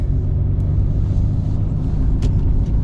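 A 1992 Mercedes-Benz 190 E sits idling, its engine giving a steady, even low rumble that holds constant throughout with no revving or talk.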